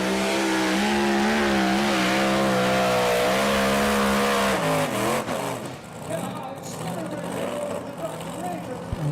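A two-wheel drive pulling tractor called Back in Black at a tractor pull in Putten: a loud, steady engine drone that wavers in pitch, then fades and breaks up near the middle as the run ends, with crowd and commentator voices over it.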